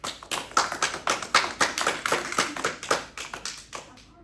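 A church congregation claps in a steady, rhythmic beat for several seconds, the sharp hand claps close and evenly spaced before stopping abruptly.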